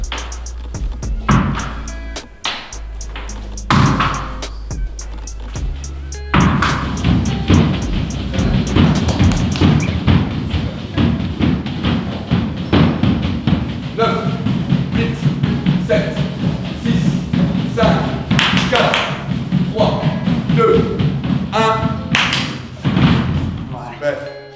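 During a reflex drill for a racing driver, a ball is thrown against a wall and caught without looking. Loud, close thumps and slaps land at irregular intervals under frequent talk in a hard, echoing room.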